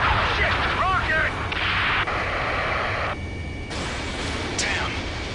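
Rocket blasts and heavy gunfire in the combat game Ace Combat 7, loud booming bursts over dense battle noise with shifting whooshes and radio-style voices.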